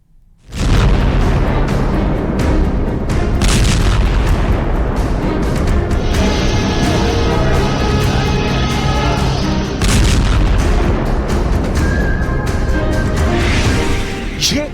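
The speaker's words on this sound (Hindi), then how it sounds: "इजराइल के दुश्मन इसे नेतन्याहू का हिजबुल्लाह हथियार बता रहे, जिसने एक बार फिर आग उगली है।" Explosions from an Israeli military attack rumble continuously, with loud deep booms and crackling blasts layered over one another for most of the stretch after a quiet start.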